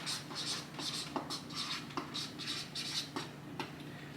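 A pen writes on paper or board in short rhythmic bursts of scratchy strokes, close and fairly quiet, with light taps between strokes and no talk.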